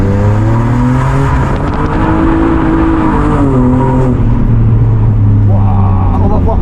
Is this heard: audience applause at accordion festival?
no